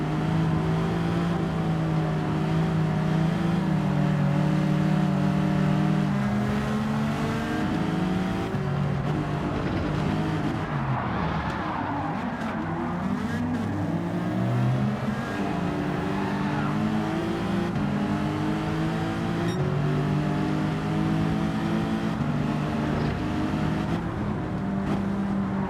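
A race car's engine drones and revs continuously during an online lobby race in Gran Turismo 7, pitch climbing and dropping with gear changes, loud and up close with no talking.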